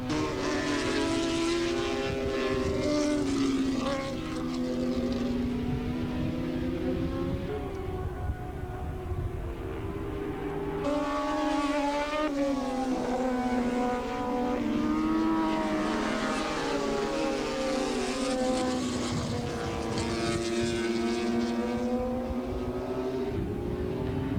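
A Yoshimura Suzuki superbike racing at Willow Springs in 1985, its engine screaming loud and close with rising and falling harmonic pitch through gear changes, staying continuous throughout.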